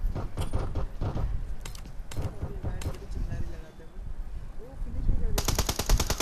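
Automatic weapon fire from a battle royale video game during an esports match, rapid bursts rattling through, strongest in a dense volley at the end, under continuous excited commentary.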